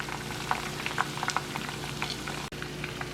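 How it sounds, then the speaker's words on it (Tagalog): Garlic toasts and fries in a pan while being stirred. A steady close sizzle runs throughout, dotted with small crackles and pops, and no one speaks. "Tapos natutosta na yung bawang. Okay. So, hayaan pa natin siyang maluto. Okay, haluin ko pa."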